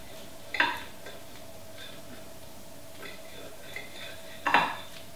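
Knife cutting through a vegan sushi roll on a board, two sharp clacks of the blade hitting the board about four seconds apart, with fainter soft taps between over a quiet room hum.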